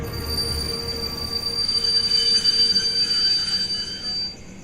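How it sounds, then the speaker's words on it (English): A train brakes hard, its wheels letting out a sustained high metallic squeal over a steady rumbling roll, loud and close, fading out at the end; no voices. "he slammed on the brakes"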